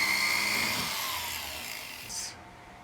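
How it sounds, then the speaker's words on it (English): A power drill whirs steadily, drilling a small pilot hole in jewelry metal, then winds down and stops abruptly. "And I drill the pilot hole that the saw blade will go through."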